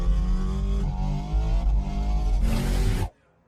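Ken Block's 1965 Ford Mustang gymkhana car revs hard, a loud, close engine roar with rising harmonics that surges briefly near the end and then cuts off abruptly.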